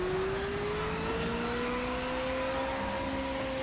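A Ferrari F40 in the racing game The Crew holds a steady, rising engine drone while drifting, with a faint tire hiss underneath, continuous and without speech.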